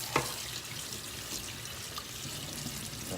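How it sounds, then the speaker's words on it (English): A kitchen tap runs steadily while something is rinsed under it, a constant close hiss of flowing water with a small knock at the start and faint splashes. "rinse it off some."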